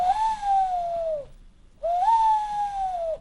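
A person imitating a mourning dove call, two long whistled hoots with a falling glide and a short silent gap between, heard alone and clearly.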